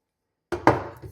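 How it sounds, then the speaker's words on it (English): Vintage cast iron skillets, an Erie and a Maid of Honor, are flipped over on a hard surface, giving two quick, close clunks of heavy metal, the second louder and ringing briefly. "Turning the pans over."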